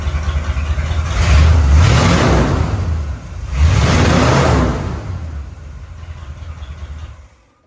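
A loud 1978 Corvette engine with a new straight-pipe exhaust roars in two deep revs, then settles back to a rumbling idle that fades at the end.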